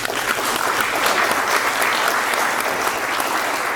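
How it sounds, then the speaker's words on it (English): An audience claps steadily and densely throughout, a full round of applause with no pauses. "we will bring things to a close now with another round of applause for our film"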